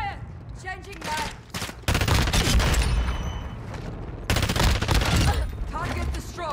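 Sustained automatic gunfire in Call of Duty: Modern Warfare II, with an FR Avancer rifle on a no-recoil class; dense bursts of rapid shots from close by, under shouted in-game callouts.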